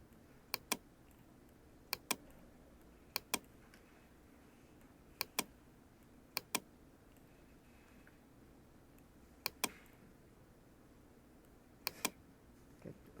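Isolated computer keyboard key presses, mostly in close pairs of crisp clicks spaced a second or two apart, in a quiet room with no talking.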